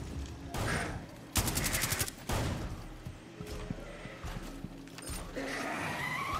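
Gunfire in Rainbow Six Extraction, a rapid burst of shots standing out against a busy game background, followed by scattered fainter shots and rumbling effects.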